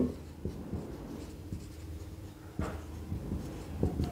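A pen scratching out math equations by hand on paper, close and quiet, with short scraping strokes and small taps at an uneven pace, a few sharper strokes standing out.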